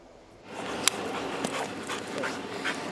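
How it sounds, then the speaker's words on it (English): A three-year-old collie drugs detection dog whimpers and pants with a few short yips over a steady room hum, close and moderately loud. "He's a 3-year-old collie, and he's trained as a drugs detection dog"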